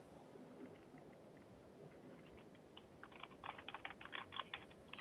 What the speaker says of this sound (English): I could hear her typing in the background.